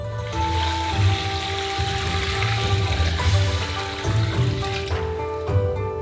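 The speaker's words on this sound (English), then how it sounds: "We're going to open the packets and pour them into the pot, along with pieces of ginger, cloves of garlic, and water." Water and dashi ingredients with ginger pieces and garlic cloves poured into a pot, a steady close splashing and trickling stream running almost continuously with slight surges.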